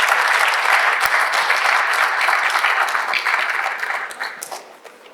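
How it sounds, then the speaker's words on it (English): A conference audience gives a sustained round of applause for the panelists, a dense wash of many hands that holds steady, then gradually thins and fades toward the end. "Please join me in giving a round of applause for our panelists"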